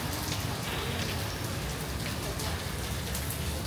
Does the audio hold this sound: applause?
no